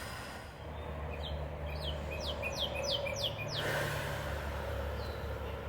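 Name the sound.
birds singing in the morning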